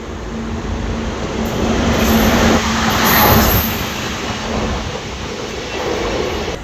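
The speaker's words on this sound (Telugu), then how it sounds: "సో ట్రైన్ అయితే స్టేషన్ లోపలికి వస్తుంది చూడొచ్చు" Simhapuri Express train rolling into a station, a loud, continuous rumble of wagons and wheels with a faint squeal, swelling and easing as the cars pass close by.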